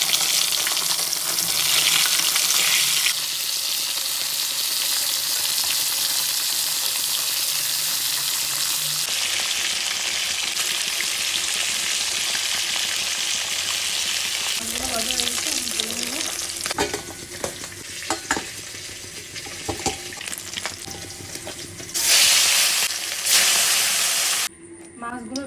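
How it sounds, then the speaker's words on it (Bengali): Rohu fish frying in hot oil in a kadai gives a loud, steady sizzle and crackle that runs almost unbroken, with brief stirring scrapes and a voice speaking faintly beneath it near the end. "তেলটা গরম হয়ে গেলেই এখন দিয়ে দেবো হচ্ছে মাছগুলো ভাজি করার জন্য"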